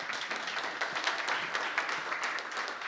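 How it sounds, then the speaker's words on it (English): An audience claps for the host at a spoken-word performance evening, a quiet, fairly distant patter of scattered hands that holds steady throughout with no talk over it. "so again, can we have another round of applause for her?"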